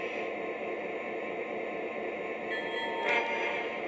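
Lionel Legacy model locomotive running a sequence-control sound routine, a steady hissing rumble of train ambience with tonal layers joining midway and a brief brighter burst near the end, no talk.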